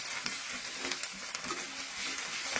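Ginger paste hits hot oil in a spice tempering for mung dal with fish head, giving a steady, moderately quiet sizzle with faint crackles and occasional spatter pops throughout.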